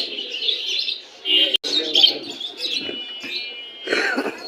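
Pigeons at the Mirpur pigeon market in Dhaka give off chirps and soft coos that carry over steady market bustle and nearby voices, with a sharp knock partway through.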